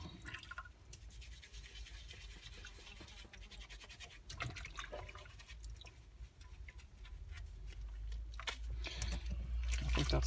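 Vax 6131 wet-and-dry vacuum filter being washed with washing-up liquid in a kitchen sink, a steady close wash of running, splashing water with scattered scrubbing and dripping clicks, swelling louder toward the end, no talking.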